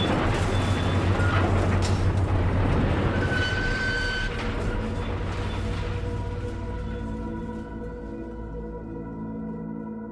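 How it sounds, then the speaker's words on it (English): An industrial car shredder tears a crushed automobile apart, giving a loud, continuous grinding roar full of rumbling metal that holds steady and then eases slightly toward the end. "that's the sound of a crushed automobile being shredded"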